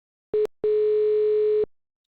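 A telephone dial tone sounds on a radio call-in show: a short steady beep, a brief gap, then a longer continuous tone of about one second, clean and loud against silence.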